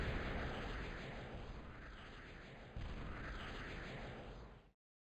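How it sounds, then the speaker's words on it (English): A continuous heavy rumble of bombing explosions roars in a real-time strategy video game, dense and loud throughout, with a fresh swell midway before it cuts off abruptly. "RVD's bombing Venom's main."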